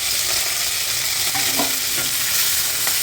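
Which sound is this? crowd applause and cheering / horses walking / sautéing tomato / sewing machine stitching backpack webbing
sautéing tomato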